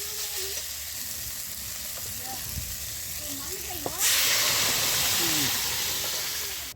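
Mung dal tipped into a pan of fried tomato masala sets off a loud, steady sizzle partway through, after quieter frying with scattered stirring clinks and a voice speaking faintly.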